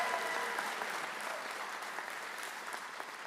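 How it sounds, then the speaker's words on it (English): An audience claps steadily and evenly throughout a school district Teacher of the Year ceremony, a sustained, moderately distant round of applause from a seated crowd with no break. "Big round of applause for Miss Stovall."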